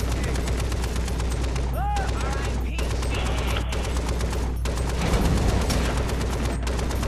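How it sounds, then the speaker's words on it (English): Dense, continuous gunfire in the video game Far Cry 3, with rapid shots and bursts filling the whole stretch and brief breaks between volleys, loud and close, while voices talk over it. "They don't see you in the bush, but they start shooting in the bush."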